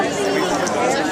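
Steady murmur of a large crowd gathered outdoors for an elementary school graduation ceremony, many overlapping voices blending into a close, continuous chatter.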